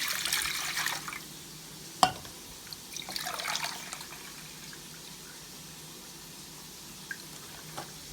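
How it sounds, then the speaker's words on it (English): Two cups of water run briefly into a cooking pot for grits, with a couple of sharp clinks and quieter splashes, then a faint room hum. "I'm gonna use 2 cups of water."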